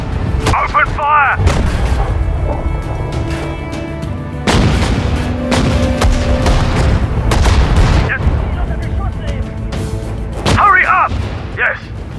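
Artillery and gunfire from the WWII strategy game Sudden Strike 4, in a North African desert battle at El Alamein: repeated loud booms and rapid shots across the whole stretch, with voiced unit acknowledgements between bursts.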